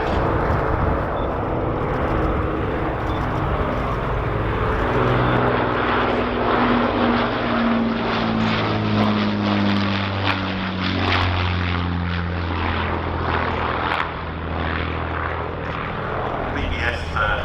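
A vintage Avro Lancaster bomber built in 1948 flies past at an airshow, its piston engines producing a loud, steady propeller drone that holds throughout, with slow pitch shifts as it passes under a public-address commentator's voice.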